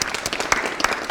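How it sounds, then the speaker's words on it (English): A class audience breaks into loud, dense clapping right after a piano trio plays a Brahms movement; the applause is close and continuous. "I want everybody to applaud."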